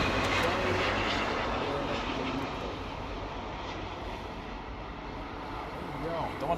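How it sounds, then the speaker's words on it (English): Distant jet rumble of a Japan Airlines Airbus A350 landing at LAX after a flight from Haneda, gradually fading a little over the clip, with a person talking. "We have an A350 Japan Airlines stealing the spotlights from our good friend."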